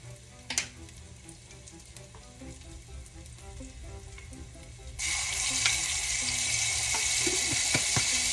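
Minced garlic sizzles in a pot of rasta pasta, a soft frying hiss that swells into a louder, bright sizzle midway, accompanied by a few clinks and stirring sounds near the pan.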